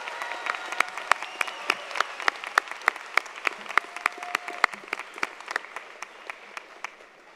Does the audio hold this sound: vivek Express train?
no